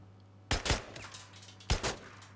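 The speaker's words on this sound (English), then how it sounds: "You can do it quicker just by using the gun." Two separate bursts of gunshots from a firearm in the video game Days Gone, a pair of sharp cracks and then another pair about a second later, loud and close over a low steady hum.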